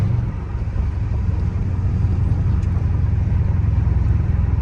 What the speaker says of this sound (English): The car sounds fucking amazing.